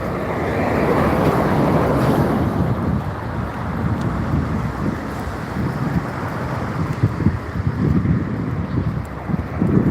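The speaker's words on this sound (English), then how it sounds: "Oh, it is chilly. That wind is bitter." Chilly, bitter wind blows hard outdoors on a morning walk, roaring loudly across the microphone in a continuous rush with gusty swells, no talking.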